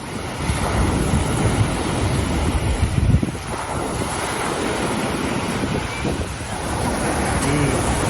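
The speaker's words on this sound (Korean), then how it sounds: "파도 소리 ASMR 진짜 힐링이 되는 것 같습니다." Ocean waves washing onto a beach in Chonburi, Thailand, a continuous steady surf roar with wind buffeting the microphone, swelling slightly near the middle, no voices.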